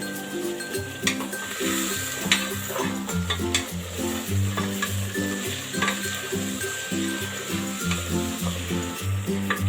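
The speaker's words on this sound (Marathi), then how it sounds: "मटर ॲड करतोय आता ह्या सगळ्या भाज्या मस्त अशा फिरवून घ्यायच्या आहेत" Vegetables with peas and potato stir-fry in a pan, a steady close sizzle with rhythmic scraping and stirring strokes running throughout.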